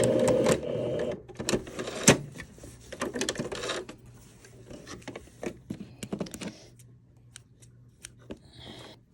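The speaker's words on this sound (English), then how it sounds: "back stitch and close that up" A sewing machine back-stitches the casing of a massage chair slipcover, with a run of close, sharp mechanical clatter and clicks that thins out into scattered ticks toward the end.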